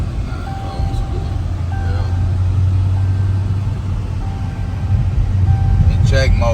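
A Dodge Challenger-style 392 Scat Pack V8 in sport mode rumbles steadily from inside the cabin, a deep continuous drone that swells slightly near the end while people talk over it.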